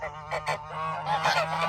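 Geese honking loudly in a close flock, several overlapping harsh calls in quick bursts over a steady low hum.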